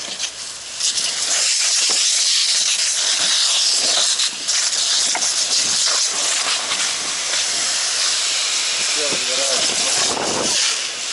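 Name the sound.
hose spraying water mist at forest fire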